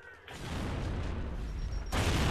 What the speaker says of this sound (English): I'm throwing frags